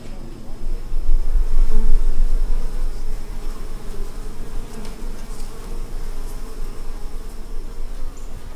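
Bees hum and buzz steadily around a hive at a farmers' market, a dense, continuous drone that swells slightly near the start and then holds at an even level throughout.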